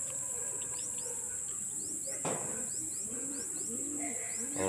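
Racing pigeons return to a loft in Pililla, Rizal, with soft cooing and chirps over a steady high insect drone, plus a brief sharp rustle near the middle.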